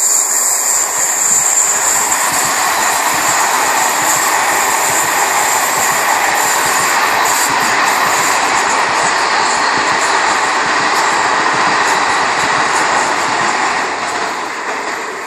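A train rolls past at Tomteboda, Solna, Sweden, its loud broadband rumble and rail noise holding for the whole stretch before easing slightly at the end; no voices.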